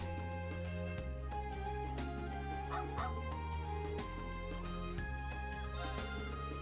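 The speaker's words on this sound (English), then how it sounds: "I've never seen such an obedient puppy before." A puppy in the video game Trails of Cold Steel III gives a few short yips and barks over steady, looping game music, with no voices.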